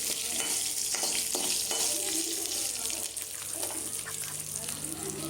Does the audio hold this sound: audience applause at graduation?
no